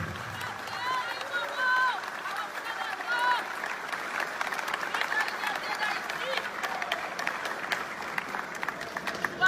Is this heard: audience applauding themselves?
yes